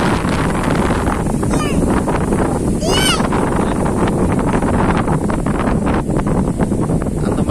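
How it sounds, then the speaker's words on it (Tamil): Strong wind roars continuously during heavy rain in Salem, a loud, steady blustery rush buffeting the microphone, with a couple of brief high chirps heard above it. "அதில் புயல் அடிக்கிற மாதிரி அடிக்குது காற்று."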